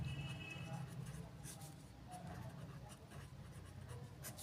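Pen or marker writing out a chemical reaction during a chemistry lesson: steady faint scratching and tapping strokes on a board or paper, heard under an ongoing voice.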